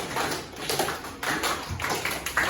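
Students in a classroom slap their desks in scattered bursts, several sharp, uneven taps close together over a noisy room.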